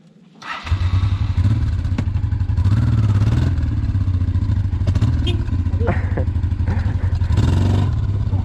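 Honda 600 Transalp motorcycle engine starting and revving hard off-road, a loud close throbbing roar with rising and falling throttle blips and some clattering, with voices talking over it.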